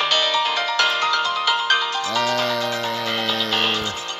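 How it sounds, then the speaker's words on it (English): An electronic ringtone plays loud and alone during a Honkai Impact 3 gameplay session, a repeating melodic phrase that shifts partway through to a lower sustained chord. "Come on, phone, stop that."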